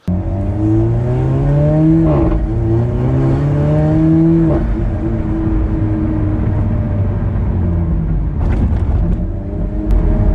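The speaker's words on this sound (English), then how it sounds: "Chris took us out for a really fun ride in this beautiful Alfa Romeo 4C." A 2017 Alfa Romeo 4C sports car accelerates hard, its engine climbing through the gears with rising whines broken by quick shifts, loud and close from inside the car, then settling to a steady drone.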